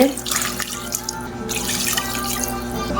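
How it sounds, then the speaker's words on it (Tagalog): Water poured into a pot of chicken gizzards being cooked in a home kitchen, a steady close splashing and trickling stream that runs for the whole few seconds with no talk over it. "Lagyan tayo ng water."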